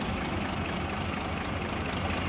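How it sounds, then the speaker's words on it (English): A 1925 Pierce-Arrow Model 80 touring car's 288 cubic inch inline six idles at close range, giving a steady, even low rumble with no voices over it. "Let you take a listen to that engine."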